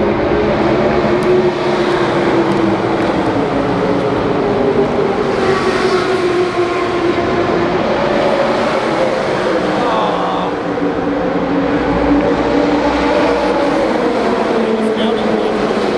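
A five-cylinder race car roars past at a vintage racing event at Indianapolis, a loud, sustained engine drone that swells and falls across the whole stretch with no talking.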